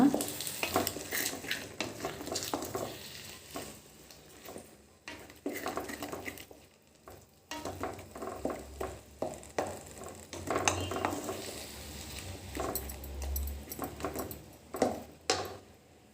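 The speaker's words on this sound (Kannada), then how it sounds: "ಲೋ ಫ್ಲೇಮಲ್ಲೇ ಸ್ವಲ್ಪ ಹುರ್ಕೊಳ್ಳಿ ಮೊಟ್ಟೆನ" Eggs fry on a low flame as a utensil stirs and scrapes them around the pan, making soft sizzling with irregular clinks and scraping strokes, close and fairly quiet.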